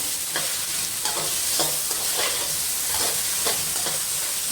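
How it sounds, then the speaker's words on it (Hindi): Julienned carrots sauté in a pan for an Indian-style spicy vegetable pasta, a steady bright sizzle broken by repeated soft scraping stirs at an even pace, close up and alone. "इसको मैं इसके साथ 1 से 2 मिनट तक कुक करूँगी ताकि गाजरें थोड़ी सी सॉफ्ट हो जाएं"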